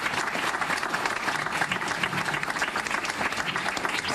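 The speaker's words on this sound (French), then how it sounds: "et on peut les applaudir en effet." Dense, sustained applause from a crowd at a municipal election campaign rally in Marseille, continuous clapping filling the space at even loudness throughout.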